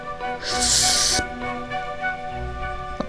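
A loud hissing rush of running water as a tap is turned on in the game Granny, lasting under a second, then quieter background tones with a soft thump.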